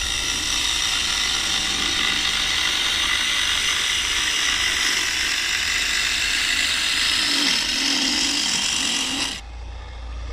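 A wood lathe spins while a gouge wing cuts into the turning wood, producing a steady close motor hum with rough scraping and chattering cuts that swell near the end before the sound abruptly drops off.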